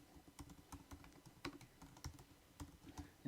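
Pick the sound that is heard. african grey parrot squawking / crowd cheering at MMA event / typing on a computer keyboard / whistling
typing on a computer keyboard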